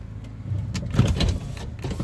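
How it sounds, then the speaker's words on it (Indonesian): Electric power window motor on a Toyota Kijang Innova family car running for about two seconds, a steady whirring hum that swells in the middle, heard close inside the cabin with no talk. "Power window-nya normal."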